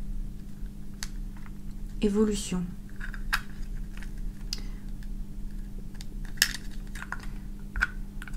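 Keystrokes clicking on a keyboard or phone in a quiet room, a quick patter of taps with a brief louder rustle near the start, then scattered single taps.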